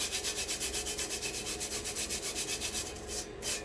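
A glitter-coated tumbler is burnished by hand in quick, even rhythmic rubbing strokes, close and fairly soft, about eight strokes per second before pausing near the end.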